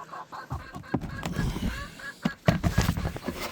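Poultry calling near the camera in a backyard flock that includes a silkie rooster, a reverse Brahma and turkeys: a run of short honking clucks and squawks in bursts, loud and close, with no talking.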